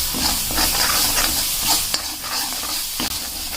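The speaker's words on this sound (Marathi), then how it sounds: "आता आपला मसाला तेल सुटूस आपल्याला भाजायचं आहे" Masala being roasted in oil with stirring, a close, loud hissing sizzle with repeated spoon scrapes and a couple of sharp knocks against the pan.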